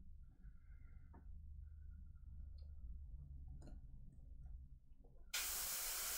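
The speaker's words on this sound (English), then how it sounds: "just with the airbrush, just tracing the inside of each little panel here" An airbrush sprays paint while tracing small panels on a miniature, starting with soft intermittent hissing and low workshop rumble, then a loud, steady full spray hiss bursts in near the end and continues to the close.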